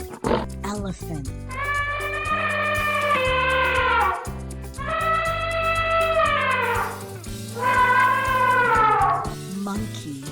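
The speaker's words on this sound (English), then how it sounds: "elephant" An elephant trumpets three times, each a long, brassy blast that rises and then falls away, loud and clear above steady background music.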